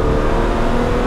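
A Series 1 Jaguar E-Type engine pulls hard under acceleration in second gear, a loud, steady, close-up roar that holds without a break and has no talking over it.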